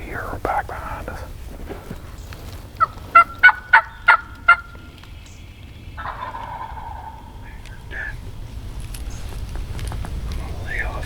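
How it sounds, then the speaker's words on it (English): Wild turkey gobbling during a spring turkey hunt in Alabama woods, a burst of about five loud rapid gobble notes at moderate distance, with hushed whispering from hunters before and after. "Bird just flew down."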